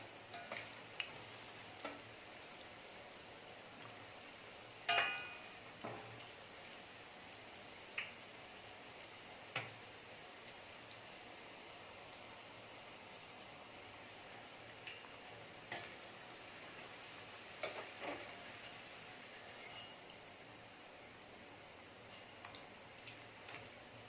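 Masala vadai, lentil fritters, being turned while they fry in hot oil: a faint, steady sizzle with scattered small ticks and pops, and no voices.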